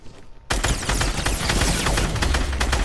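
FAMAS assault rifle fire in Fortnite erupts after a short quiet moment into a dense, rapid, loud burst of shots that keeps going to the end.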